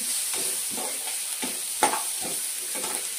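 Garlic sautéing in an oil-filled pan for a bhindi masala base, a steady bright sizzle with soft stirring scrapes repeating about every half second, close and alone.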